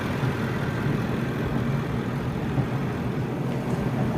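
A 2016 Range Rover Sport Autobiography engine idles steadily, a continuous low rumble held at an even level throughout with no voices.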